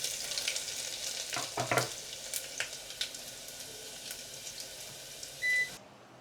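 Garlic with cinnamon, cloves and peppercorns sizzles in hot oil in a pan for chicken biryani, a steady close frying hiss broken by a few stirring scrapes and a short beep near the end.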